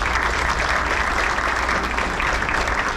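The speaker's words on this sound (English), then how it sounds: "so give him a round of applause." Steady, dense clapping fills the room as a dinner audience at a Wisconsin baseball banquet applauds, loud and continuous throughout.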